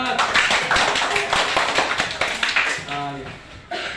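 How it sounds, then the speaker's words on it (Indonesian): A class group claps to cheer on classmates before their presentation, a lively burst of many hands that fades out near the end as a voice begins talking. "Oke, tepuk tangan dulu, kasih semangat."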